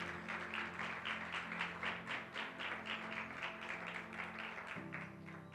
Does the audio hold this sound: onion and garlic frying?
no